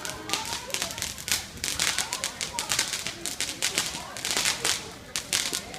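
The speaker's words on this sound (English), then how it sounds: "And they're still shooting off fireworks." Fireworks being set off on the Fourth of July in Venice during a tree fire: rapid, irregular sharp cracks and pops come in quick succession at a moderate distance, fairly faint throughout.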